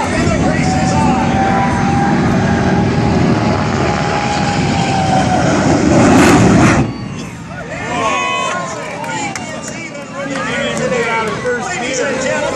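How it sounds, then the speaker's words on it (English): The Stinking Thunder jet dragster races an airplane down a drag strip, a loud, sustained jet roar that cuts off abruptly about two-thirds through. Crowd babble follows, along with a softer engine drone and an announcer's voice. "let's hear it for Bill Brack and the Stinking Thunder Jet Dragster."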